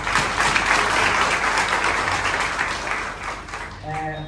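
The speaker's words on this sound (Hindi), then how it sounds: "इनके लिए भी जोरदार तालियां" An audience at a motivational event applauds with a loud, dense sound of many hands clapping that gradually fades, and a voice begins speaking just as the clapping dies down.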